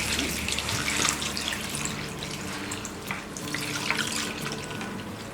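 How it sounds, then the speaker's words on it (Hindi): Tap water pours steadily into a bowl of poha (flattened rice) for washing, a continuous close splashing rush with small sloshes and drips throughout, no voices. "इसमें पानी डालेंगे और इसे 2-3 बार अच्छी तरह से धो लेंगे।"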